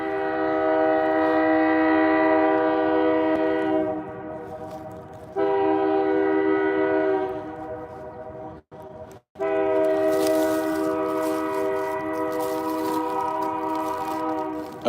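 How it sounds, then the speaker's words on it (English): A train rumbles past nearby while its horn blares in long, loud blasts, cutting out briefly before sounding again over the steady clatter of the cars. "I hear the train a-coming."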